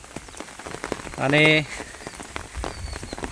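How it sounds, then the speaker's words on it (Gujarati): Monsoon rain falls steadily over a village, a soft continuous patter, with a brief tonal note rising near the middle and a voice speaking briefly. "વરસાદ આવ્યા જ કરે છે"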